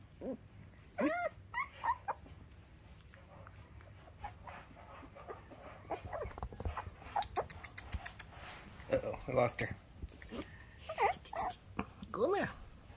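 A dog whimpers in high, whiny cries and lets out low growls, mixed with a person talking nearby.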